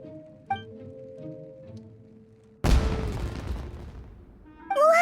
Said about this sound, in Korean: 폭죽이야. 저쪽에서 뭔가 터졌어.